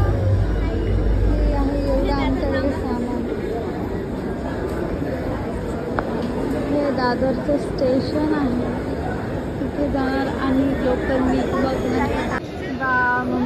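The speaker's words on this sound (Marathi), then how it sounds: "कसली गर्दी आहे." A dense early-morning crowd at a Mumbai train station babbles and chatters all around, with a low rumble at the start and scattered louder voices and clatter throughout.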